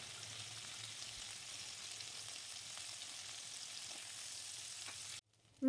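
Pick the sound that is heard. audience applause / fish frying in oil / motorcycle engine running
fish frying in oil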